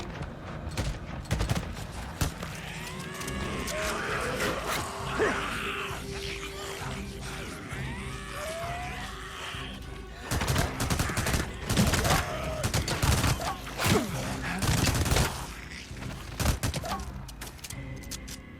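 Rapid bursts of gunfire are aimed at a horde of infected in the Days Gone video game, with sustained volleys, growls and groans from the horde, and loud clusters of shots near the end.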